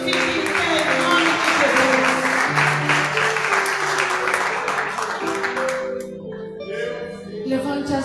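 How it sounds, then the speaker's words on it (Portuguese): A church congregation claps loudly over sustained music, the applause thick at first and then thinning out and fading toward the end while the tones carry on. "Aplauda ao Senhor e fique em pé"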